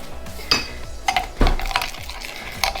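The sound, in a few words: stirring homemade moisturiser in a container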